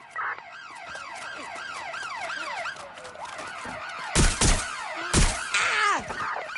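An emergency siren wails in a PS4 police-chase video game, a rapid rising-and-falling yelp repeating steadily, then breaking into a long sweep as loud thuds and crashes cut in twice.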